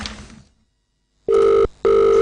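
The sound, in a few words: telephone ringing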